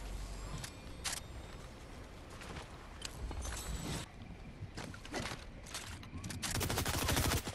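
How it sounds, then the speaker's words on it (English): Gunfire in the game Banana Battles: irregular bursts of sharp cracks, some in rapid clusters, over a busy background that grows louder toward the end. No one talks. "Oh my god, someone's shooting it."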